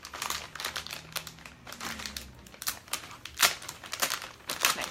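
A plastic swag bag package is pulled open by hand, giving a run of crinkling and crackling bursts with a few sharp tearing snaps, close up and with no talk.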